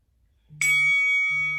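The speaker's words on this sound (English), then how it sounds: "There's our bell." A bright bell chime marks the interval in a beginner HIIT exercise class, ringing once with long sustained overtones over a low steady hum, clear and alone with no talk.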